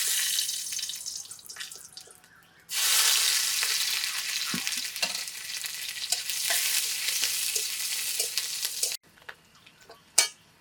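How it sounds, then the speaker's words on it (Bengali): Garlic and dried chilli drop into hot oil with a sudden loud burst of sizzling that crackles steadily for several seconds, then cuts off, leaving faint clinks and a sharp final knock. "তেলটা গরম হয়ে গেছে, এখন আমরা রসুনটা দিয়ে দেবো।"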